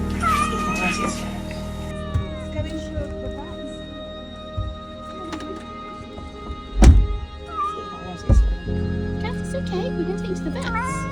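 A cat meows repeatedly in short, rising calls while being taken to the vet, with a couple of louder thumps and faint background voices.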